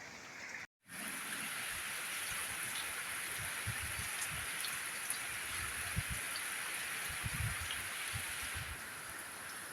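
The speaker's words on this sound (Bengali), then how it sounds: "বৃষ্টিতে সব ভেজে যেতেছে এই জন্য সব এরকম করে রাখছি" Steady heavy rain falls over a flooded rural home with water over the walkway, a dense continuous hiss with scattered drops and splashes close by, briefly cut out near the start.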